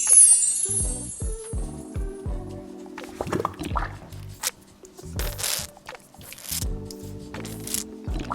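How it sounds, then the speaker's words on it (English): Pumpkin and egg mixture is stirred into dry ingredients for pumpkin spice scones, giving a steady run of soft, wet squishing and scraping strokes that come close and fairly quiet, in an uneven rhythm with no talk. "Add the pumpkin and egg mixture to the dry ingredients. Stir until all is moistened and comes together."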